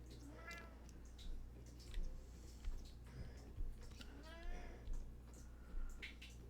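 A cat meows several times in a row, with short rising and falling cries at an even pace over a steady low hum, fairly close and not very loud.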